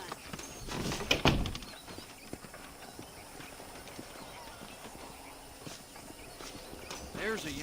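Horse hooves clip-clop in the video game Red Dead Redemption, a loose rhythm of soft thuds among ambient game noise, with a louder burst early on and a speaking voice over part of it.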